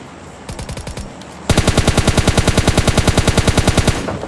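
Automatic gunfire in the Free Fire battle game, with a few scattered shots giving way to a long, loud, steady burst of rapid rounds fired at an even rhythm, close up and without talk.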